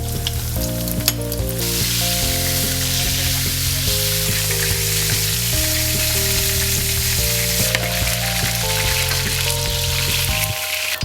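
Beef pieces sizzle steadily in hot oil for Mongolian beef, a dense, continuous frying hiss that runs through the whole stretch beneath a backing of music.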